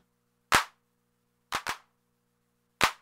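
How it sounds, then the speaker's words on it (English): Four dry, sharp synthetic clap hits from a Recodrum drum machine with short decay, one single, then a quick double, then another single, each isolated in silence. "The clap is the most crazy one because you have the decay can go from really short"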